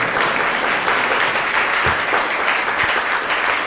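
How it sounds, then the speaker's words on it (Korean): Dense, steady applause from a forum audience in a hall, continuous clapping at even loudness for the whole stretch with no voices over it. "박수 좀 부탁드립니다."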